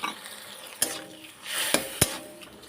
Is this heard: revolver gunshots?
no